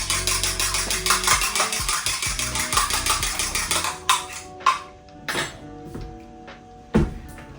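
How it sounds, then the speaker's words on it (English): Two eggs being beaten in a bowl for a sweet potato pie, with a fast, regular clatter of whisk or fork against the bowl that stops, followed by a few separate loud clinks. "I'm going to beat 2 eggs"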